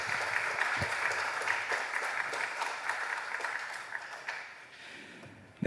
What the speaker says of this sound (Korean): 격려하면서 큰 박수로 함께 합시다.